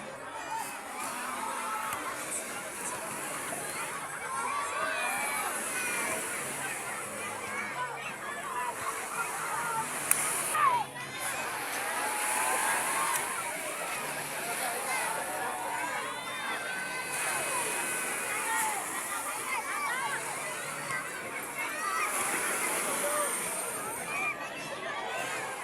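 Large crowd of beachgoers swimming and splashing at Laiya beach resort in San Juan, Batangas, a steady wash of distant chatter, shouts and water sounds running throughout without pause.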